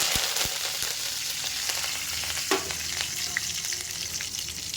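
Curry leaves dropped into hot oil with popping mustard seeds, a loud continuous frying sizzle close by with scattered crackles and a sharp spatter midway, no voices.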